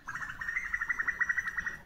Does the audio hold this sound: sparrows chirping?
yes